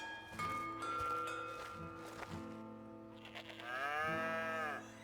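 A large bull lows in a Wild West ranch video game: long, deep, drawn-out moos that rise and bend, heard fairly close over a soft ambient background.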